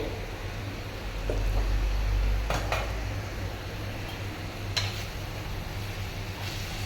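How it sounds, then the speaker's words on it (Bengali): A lid is lifted off a cooking pot in a home kitchen while preparing ghonto, giving a few faint clinks and knocks over a low, steady background hum. "এবার আমি এই ঢাকাটা খুলে"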